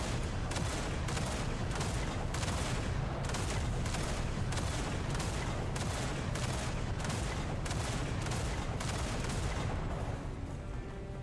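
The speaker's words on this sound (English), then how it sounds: "I'm shooting at you!" Dense, continuous video-game gunfire rattles without pause for about ten seconds, a loud rapid volley of shots that thins out slightly near the end, with no talking over it.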